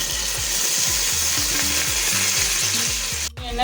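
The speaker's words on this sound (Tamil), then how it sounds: "இப்போ நம்ம கொத்தமல்லி புதினா சேர்த்து வதக்கலாம்." Coriander and mint leaves sautéing in hot oil for chicken biryani, a constant dense sizzle with rhythmic low thumping underneath, close and loud, ending in a brief cutoff.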